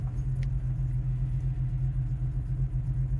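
A Ford Mustang project car with a suspected bad fuel pump, pulling out of a driveway: a steady, loud low engine rumble runs throughout with no clear revving.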